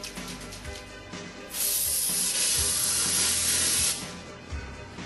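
A can of Baker's Joy baking spray hisses onto baking pans held over a kitchen sink, one long steady spray of about two seconds between quieter rustling and handling sounds.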